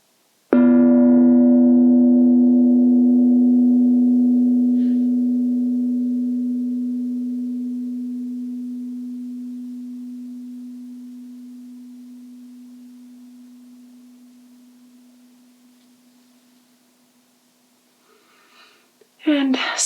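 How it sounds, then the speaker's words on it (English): Gong struck once during a kids' yoga session, a single deep, steady tone that rings on and slowly fades to near silence over many seconds, followed by a brief rustle at the very end. "we're going to listen to the sound of the gong one more time"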